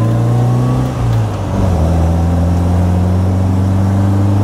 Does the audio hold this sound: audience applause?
no